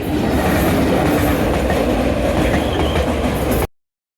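A train rolls past on a forest railway track near a river bridge, a loud, dense rumble with rhythmic clatter of wheels that cuts off abruptly near the end.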